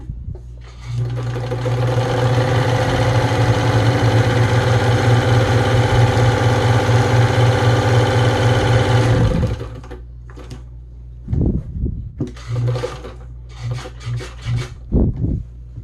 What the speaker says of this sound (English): Now I'm going to do a narrow zigzag, and I'm going to put my stitch length up at 2.